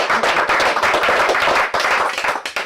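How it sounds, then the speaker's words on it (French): Audience clapping for a memory performance, brisk dense applause from a nearby group, loud and continuous for the whole short stretch. "On applaudit."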